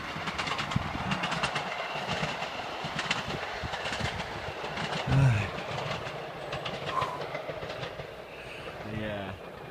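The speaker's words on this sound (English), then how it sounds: "Train." A train passes in the distance on a windy, rainy day, its rumble and rhythmic clatter rising and fading beneath gusting wind, with a brief voice near the middle.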